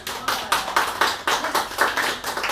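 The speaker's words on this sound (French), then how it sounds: "Je vous applaudis." People clap at a gathering, producing steady, evenly spaced claps about four per second, moderately close and loud, with no talking.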